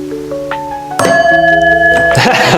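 A mini chopper's drive chain plucked by hand to check tension, giving a sudden metallic twang that rings on with a sustained buzzing tone, loud and close, followed by a second clank.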